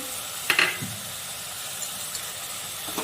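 Ground spices with salt, cumin, turmeric and chili powder sautéing in a pan for a tengra fish curry, a soft continuous sizzle with a sharp metallic scrape of a spatula near the start and faint stirring clicks after.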